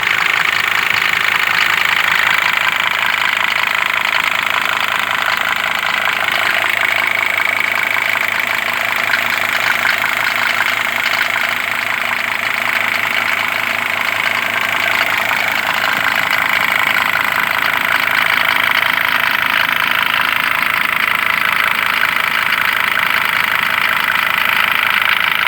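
Diesel engine of a Mercedes-Benz 410D van idling steadily after a tensioner bearing replacement, the drive belt turning evenly; a close, continuous mechanical hum with a faint rhythmic ticking and no talk.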